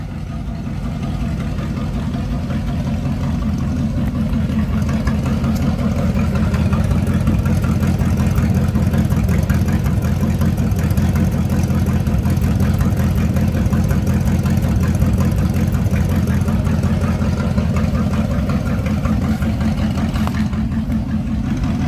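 A carburetted Camaro engine idles steadily up close, a low, even rumble that holds without revving for the whole stretch.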